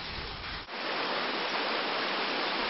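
A mountain valley stream rushes in a loud, unbroken hiss of flowing water close by, dipping for a split second before surging on. No one speaks.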